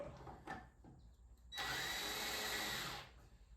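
A power drill drives screws into a board on a home-built weight rack, with a brief whir near the start and then a sustained, loud whine for about a second and a half as a screw seats.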